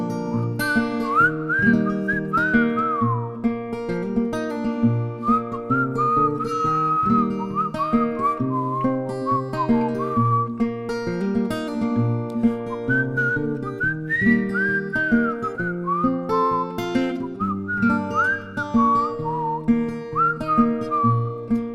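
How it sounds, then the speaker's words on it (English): Several people whistle a tune together in a steady, melodic line that carries through the whole stretch, with overlapping pitches sliding up and down at a fairly loud, even level. "everybody whistle solo"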